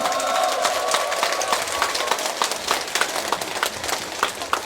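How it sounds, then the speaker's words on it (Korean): Crowd at a Korean Buddhist temple gathering claps steadily, with scattered cheers, to welcome a monk to the stage; dense, continuous applause with sharp individual claps poking through, and no voices. "박수와 환호를 맞아주세요"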